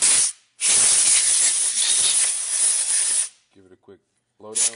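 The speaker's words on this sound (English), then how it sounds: "Give it a quick blow down." Compressed air blows down a part during home Cerakote prep, two loud close hissing blasts, the first short and the second about three seconds, followed by a brief voice.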